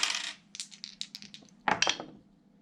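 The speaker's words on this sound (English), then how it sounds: "we'll battle back with 2 dice" Dice rattle and tumble across a table in an ancient-battle board game, a quick burst of clicking bounces followed by a second louder clatter, close and alone with no talking.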